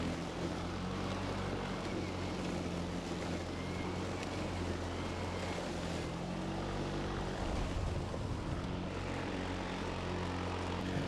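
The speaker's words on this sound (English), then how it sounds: "This is actually a smart mower too, so if it needs more power, it automatically sends it to the mower." EGO cordless self-propelled battery lawn mower cutting dry grass, a steady, fairly quiet motor hum with blade whir that runs continuously throughout, with no talking.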